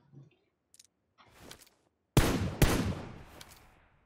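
Two loud bursts of gunfire from a sprayed weapon with a 6x scope in PUBG Lite, following a few faint clicks and soft game sounds, then a decaying rattling tail.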